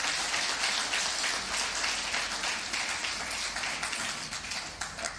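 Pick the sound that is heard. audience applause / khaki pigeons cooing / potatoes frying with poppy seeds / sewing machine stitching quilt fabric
audience applause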